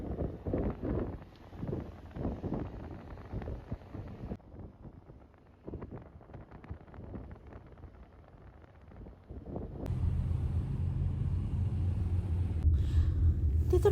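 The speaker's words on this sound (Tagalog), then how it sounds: "Ang lakas ng hangin guys." Strong wind buffets the microphone on the summit of Hehuan Mountain, coming in irregular rumbling gusts that ease for a few seconds and then return as a heavier, sustained roar in the final seconds.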